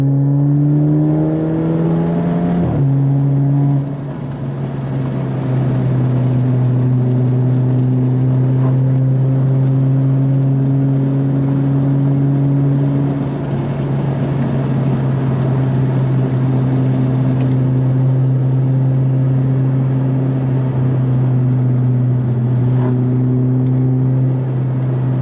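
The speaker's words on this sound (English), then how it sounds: "Driving through the Black Forest right now," An Alfa Romeo Giulia drives through the Black Forest with a steady engine drone and some gear-change shifts, heard from inside the car with rolling road noise and no talk.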